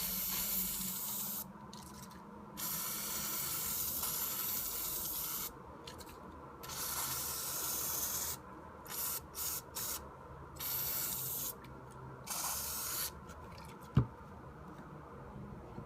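CRC lubricant sprayed inside a Yuxin 4x4 puzzle cube, heard as several bursts of close hissing spray with short pauses between them and a faint tap near the end.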